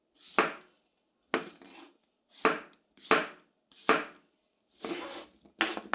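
A knife slices cleaned button mushrooms into slices about half a centimetre thick on a board, giving seven crisp, separate cuts at an uneven pace, close and loud with quiet gaps between.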